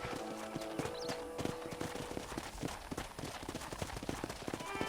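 Horse hooves clip-clop steadily at a walking pace in the Red Dead Redemption video game, close and distinct, with a brief whinny near the start and faint ambient game sounds behind.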